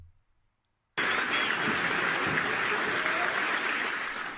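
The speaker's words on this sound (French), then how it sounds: "Des applaudissements, des gens qui sont contents" Members of El Salvador's congress break into applause after the Bitcoin law passes, a loud, dense burst that starts abruptly after a brief near-silence and carries on steadily.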